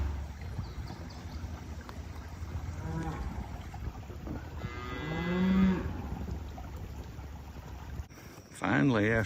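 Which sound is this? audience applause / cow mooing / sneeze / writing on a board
cow mooing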